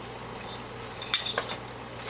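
Beaten egg mixture for a Spanish tortilla hits hot oil in a pan, a soft hiss after a quiet second, followed by a few brief spatters and utensil clinks.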